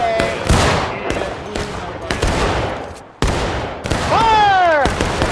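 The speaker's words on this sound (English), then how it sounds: "Begin independent fire down north at that smoke." A musket volley in a Civil War skirmish game at Reno's Fall, a string of loud, ragged gunshot bursts at irregular intervals, with a voice shouting over the firing near the end.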